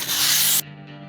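A knife blade is sharpened on 280-grit sandpaper, giving one loud, close, hissing scrape that stops abruptly, followed by quiet.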